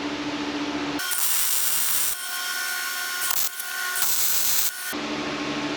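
Tack welds on the upper control arm mounts of a Firebird car: several loud, close crackling arc bursts of about one to two seconds each, separated by short pauses, with no talking.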